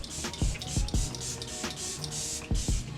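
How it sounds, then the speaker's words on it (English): Several short, sharp hissing sprays of Morphe Luminous makeup setting spray, a quick burst of a few pumps, then a pause before two more mists close to the microphone. "I'm going to use my Morphe Luminous setting spray"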